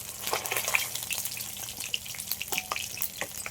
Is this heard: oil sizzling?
yes